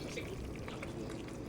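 Canned coconut milk pours into a pan of crab for ginataang alimasag, a quiet, steady liquid gurgle lasting just over a second.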